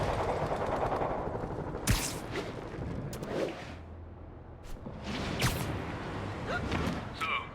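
Gunfire erupts at a rooftop outpost under attack in Spider-Man Remastered, with sharp bursts of shots spaced over a steady low background of game ambience.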